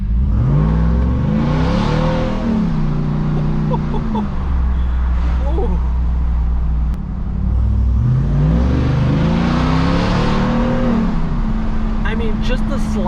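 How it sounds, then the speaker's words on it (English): A car fitted with an EVC throttle controller accelerates hard, its engine note rising and falling in strong revving sweeps, loud and close, with a driver talking over the engine throughout. "I am just lightly touching the throttle and it just took off."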